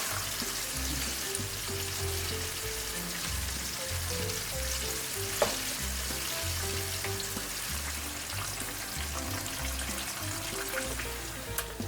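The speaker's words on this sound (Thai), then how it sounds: "จากนั้นเราก็จะทอดรอบ 2 เลยค่ะ ใช้ไฟกลางเช่นเดิมนะคะ" Chicken wings deep frying for a second round over medium heat, a steady dense sizzle of hot oil with bubbling crackle running throughout, close and even with no talk.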